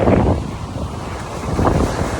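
Rough sea surf on the Black Sea coast near Kocaali, with wind buffeting the microphone; waves surge twice in loud swells over a steady roar, no voices.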